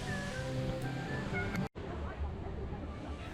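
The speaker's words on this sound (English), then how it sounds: "we still got this waterfall on the right side" Water rushes and splashes steadily from a waterfall beside the Splash Mountain log flume ride, a broad continuous roar with ride music and voices mixed in, cutting out abruptly for a moment midway.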